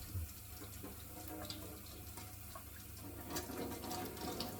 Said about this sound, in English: And wash all the dirt off that you can see.